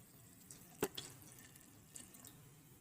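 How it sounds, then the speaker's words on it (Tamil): Water poured into a mixer jar holding milk cream for homemade ghee, a few soft splashes and drips in a quiet kitchen, faint and brief. "சேர்த்துட்டு இதில் கொஞ்சம் தண்ணி சேர்த்துக்கோங்க."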